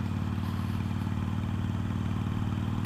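A Harley-Davidson Iron 883 motorcycle idles steadily nearby, a constant low, throbbing engine rumble with a slight mechanical clatter, alone and unchanging throughout.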